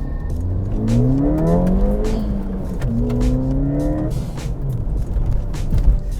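A Ford Fiesta ST engine revs up steadily in first gear, pitch climbing, easing off, then rising again as it pulls away.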